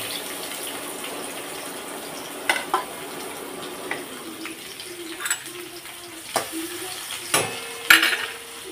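Curry leaves and finely chopped onion fry in a pan with a steady sizzle, broken by several sharp clinks and scrapes of stirring that grow louder toward the end.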